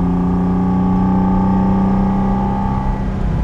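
A 1974 Ferrari 246 GTS Dino with a mid-mounted V6 of about 200 hp drives along, its engine droning loud and steady with a smooth, sustained tone and no talking.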